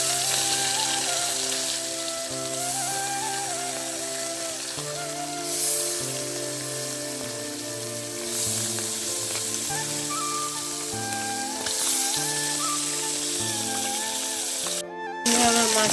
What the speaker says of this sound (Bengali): কড়াইয়ের মধ্যে আমি তেল দিয়ে দিয়েছি। দিয়ে এবার আমি মাছগুলোকে ভেজে নেব।